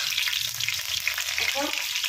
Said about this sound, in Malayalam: ഇപ്പോൾ വെള്ളം ഉള്ളതുകൊണ്ടാണ് ചെറിയൊരു പൊട്ടിക്കറിയൊക്കെ വരുന്നത്